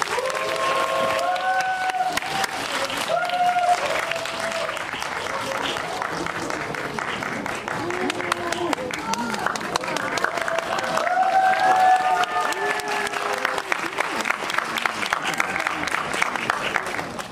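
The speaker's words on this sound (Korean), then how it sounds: "큰 박수 부탁드립니다." Loud, sustained applause fills a packed cinema auditorium for a stage greeting by the director and cast of the film Hijack 1971 at CGV Yongsan I'Park Mall, with crowd noise, scattered cheers and chatter throughout.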